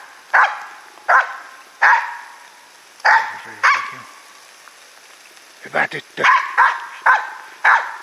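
A Finnish Spitz hunting dog barks in the morning rain, a steady run of loud, sharp barks about every second outdoors, with a brief spoken word of praise between them.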